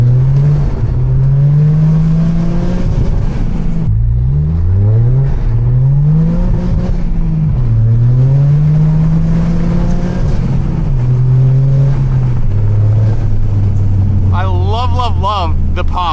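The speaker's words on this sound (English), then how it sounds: "Love the pops that this car does." Toyota GR Corolla engine revving loud and near, pitch climbing and falling through repeated pulls, with crackling exhaust pops toward the end; the engine fills the whole stretch.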